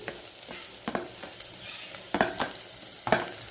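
Vegetables for khichdi, including potato, bottle gourd, onion and chilli, are stirred in a pot with a spoon, making a series of irregular scraping strokes over a low sizzle, close and with no talking.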